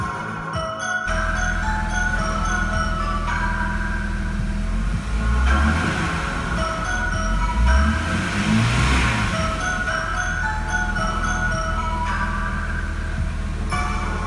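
A Jeep WJ with the 4.0 engine idles steadily after radiator work and a new overflow valve, a constant low mechanical hum and rumble that runs unbroken for the whole stretch.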